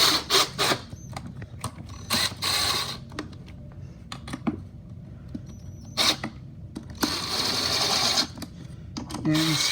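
Screws being driven into the parts of a homemade lathe for pool cue shafts: a run of short clicking, ratcheting and creaking mechanical bursts, close and fairly loud, with someone talking at intervals between them.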